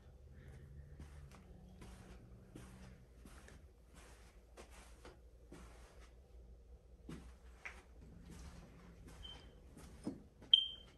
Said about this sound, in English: The smoke alarms are still going off.